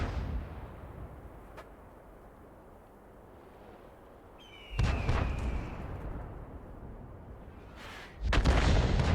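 A World of Tanks tank gun fires with a sudden heavy boom almost midway through, trailed by a rumbling tail, and a second loud blast strikes near the end after a low quiet drone.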